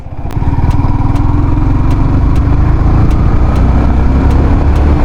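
A Yamaha XSR 155 motorcycle engine revs steadily with the clutch held in, a loud, continuous close-up drone that builds quickly and holds at a high pitch, with rhythmic ticking pulses running through it.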